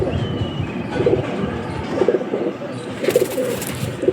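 Madras pigeons cooing close by, a soft throaty coo repeated about four times at roughly one-second intervals over low background rustle.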